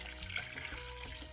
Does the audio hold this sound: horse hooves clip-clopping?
no